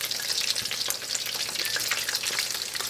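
Battered chicken frying in hot oil to re-crisp the coating, a loud, dense, continuous crackling sizzle close by with no voices.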